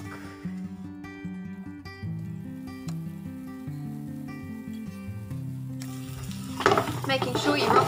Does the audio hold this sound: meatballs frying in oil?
yes